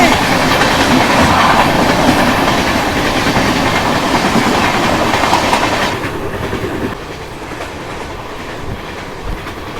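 A Solapur Intercity train runs on rails with a steady, loud rumble and rhythmic clickety-clack of wheels over joints, easing to a quieter roll in the last few seconds.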